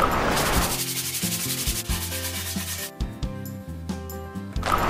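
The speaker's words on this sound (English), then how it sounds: "So, just a little bit of sanding now, and we'll be pretty close to done." Sanding a wooden toilet seat by hand: steady rubbing strokes, close and loud, with rhythmic back-and-forth scrapes over a low hum, no talking.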